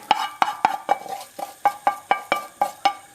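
Utensil clacking against a pan while stirring a garlic and ginger curry base for an Indian paneer curry, about a dozen sharp rhythmic knocks in quick succession, close and clear with a faint sizzle beneath.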